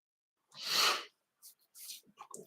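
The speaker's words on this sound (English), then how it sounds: "I have a sneeze coming on" A single loud sneeze bursts out up close, followed by a few quieter breaths and small vocal sounds in an otherwise quiet room.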